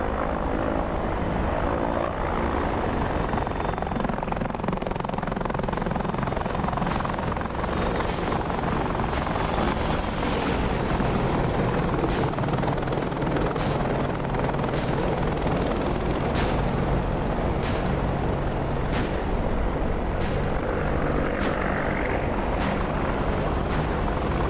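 An Apache helicopter making a flyby in a combat game, a loud, dense rotor roar that fills the whole stretch with steady rhythmic blade chop, heard alone without voices.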